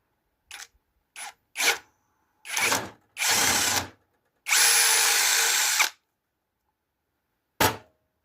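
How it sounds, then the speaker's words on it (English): Bursts of a power drill driving a size 12 reamer through a hole in a Peugeot 404 tie rod, several short whirring runs of rising length with gaps of silence between, close and loud, ending with one brief final spin. "Then I have to ream it with a 12."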